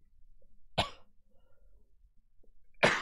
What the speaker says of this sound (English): I can always pick up my cough.